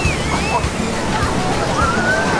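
Ocean water washes up onto the sand of a crowded Brazilian beach, a steady broad sloshing surf with background voices of beachgoers throughout.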